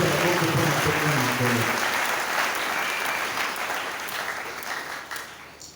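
Church congregation at an assembly in Kisanga applauding and cheering for the Lord, dense loud clapping with voices shouting, a preacher's voice heard briefly at the start, the applause gradually thinning.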